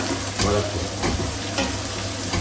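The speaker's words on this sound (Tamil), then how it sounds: "வதங்கட்டும் வதங்கட்டும் நன்றாக வதங்கட்டும்" Green chillies sizzle and fry steadily in hot oil in a pan for a Tamil dried-fish kuzhambu, a loud, continuous crackling hiss with occasional stirring scrapes, close up and with no talking.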